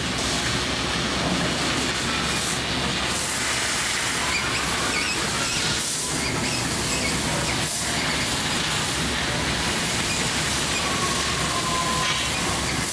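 A CNC machine cuts carbon steel sheet into 12-inch pans in a factory, producing a continuous loud, even hissing roar that runs unbroken throughout with only slight shifts in texture.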